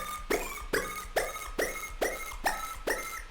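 A synth bass with a short LFO on the frequency modulation of its sub, struck as seven even, punchy plucks about half a second apart. Each hit has a bright attack and a quick wobble decay, close and alone.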